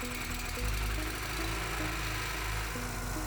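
An ELIET GZC 1000 lawn seeder's engine runs at a steady idle nearby, a low even hum with faint rhythmic knocking and no voices.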